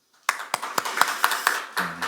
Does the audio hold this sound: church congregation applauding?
yes